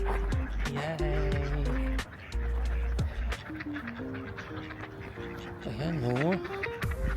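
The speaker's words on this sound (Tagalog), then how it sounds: "tingnan niyo ang mga pato. Ang gaganda." Ducks quack repeatedly along a downtown river walk in Reno, their calls mixing with nearby voices chatting over outdoor background noise.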